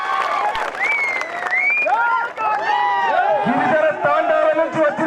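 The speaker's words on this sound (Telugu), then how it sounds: "గట్టిగా చప్పట్లతో స్వాగతం తెలియజేయవలసిందిగా కోరుతా ఉన్నా." At a corner meeting in Sirikonda for MP candidate Jeevan Reddy, a crowd claps and cheers in welcome. Loud, excited shouting and whistles ride over a steady wash of applause.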